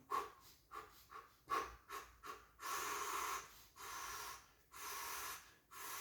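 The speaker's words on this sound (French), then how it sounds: "Donc là, j'expire et ça inspire tout seul." Slow, deliberate breathing close to the microphone as part of a relaxation exercise, with several short airy inhales and exhales followed by long, steady exhalations, with no talking.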